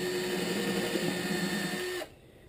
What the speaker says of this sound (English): Now I'm going to take my drill and put a pilot hole here.